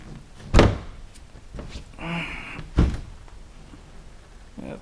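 RV door frame on a wrecked Monaco motorhome shoved back into place during a front cap install: two sharp, close thumps a couple of seconds apart, with a brief scraping rattle between them.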